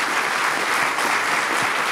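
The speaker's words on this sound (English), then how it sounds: "let's have a round of applause for both these guys" Sustained applause from an audience, steady and dense clapping throughout with no voices standing out.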